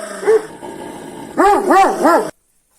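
A stubborn dog barks close by: one sharp bark, a low rumbling growl, then a run of three loud barks before it stops abruptly.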